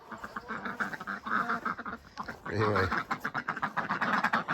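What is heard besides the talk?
ducks quacking near chicken coop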